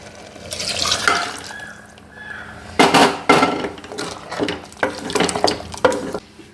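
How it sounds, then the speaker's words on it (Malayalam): Hot water poured into a pot of simmering tomato sambar, giving a few loud hissing, splashing bursts in the second half after a quieter stretch of cooking noise. "ഇത് ഞാൻ ചൂടുവെള്ളമാണ് ഇതിലേക്ക് ഒഴിക്കുന്നത്"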